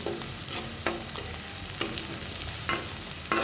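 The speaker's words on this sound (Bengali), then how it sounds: "তেলে পেঁয়াজ ভেজে নিচ্ছি" Onions frying in oil for a lemon prawn dish, a continuous close sizzle punctuated by four sharp stirring scrapes or clinks spaced about a second apart, no speech.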